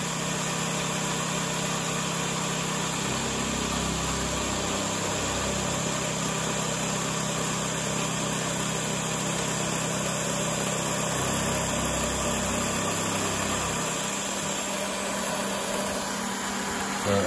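A CNC mill takes a finish pass cutting a slot through square steel tubing with a 2-flute carbide endmill, a continuous machine drone with coolant hiss and a low hum that shifts slightly as the cut progresses.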